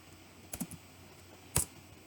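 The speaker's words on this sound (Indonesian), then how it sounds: "Pertama-tama kita buat ketikkan komen rectangle." A few quick keystrokes are tapped on a computer keyboard while entering a rectangle command in AutoCAD, two brief click clusters separated by quiet room tone.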